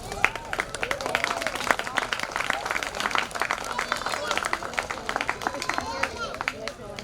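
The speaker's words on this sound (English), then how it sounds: "Another round of applause for James." Audience applause at a Juneteenth 2021 community celebration in Walpole, dense irregular clapping from a crowd sustained throughout, fairly close, with some voices and murmur mixed in.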